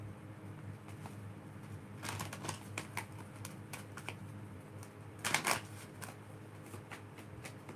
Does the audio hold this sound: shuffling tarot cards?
yes